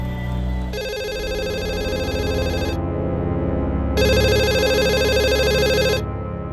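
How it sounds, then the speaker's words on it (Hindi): An electronic landline telephone ringing in a home, two long bursts of bright warbling tone separated by a pause, loud and close over a low background hum. "लैंडलाइन पे फोन लगाओ।"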